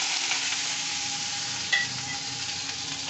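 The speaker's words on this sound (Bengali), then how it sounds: "আলুটা আমি একটু নুন দিয়ে ভেজে নেব" Potato pieces fry in hot oil with salt, giving an even, close crackling sizzle throughout and one sharp clink partway through.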